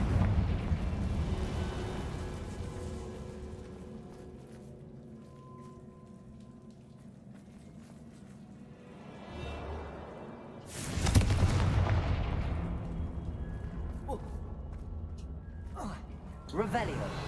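Booming blasts of the Confringo fire spell in the Hogwarts Legacy video game, one rising whoosh near 9–10 seconds, a loud burst around 11 seconds and another at the end, over a steady ambient game rumble.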